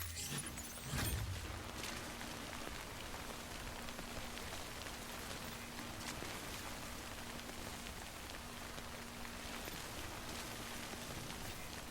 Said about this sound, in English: And then I just wait for the rain to finish.